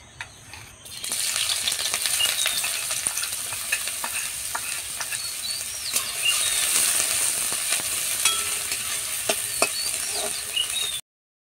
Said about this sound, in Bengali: তেলের উপর দিয়ে দিলাম পেঁয়াজ।